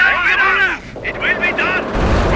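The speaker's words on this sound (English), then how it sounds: "Taking rifle fire." Rifle fire sounds in the World War II strategy game Company of Heroes, Blitzkrieg mod. Sharp, loud shots crack over other battle sounds and game effects, ending with a deep rumbling boom.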